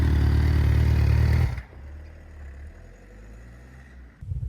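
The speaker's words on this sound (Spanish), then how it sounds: "Hasta 7000 suena como una KTM y después de 7000 suena como una MotoGP." A 2001 MV Agusta F4 750 S motorcycle engine roars loudly at high revs, then drops off to a lower, quieter running note before briefly rising again near the end.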